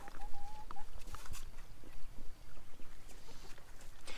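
Chickens clucking and squawking in short bursts amid outdoor farmyard noise, moderately close, with no voices.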